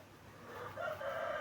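A young rooster crows once, outdoors at moderate distance, its thin rising call building over about a second, quiet and heard on its own.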